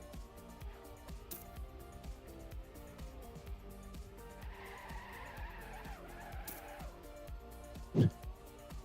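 Race car engine roaring steadily in the TrackMania video game, with a rising tire skid through the middle and a sharp impact near the end, under continuous game sounds.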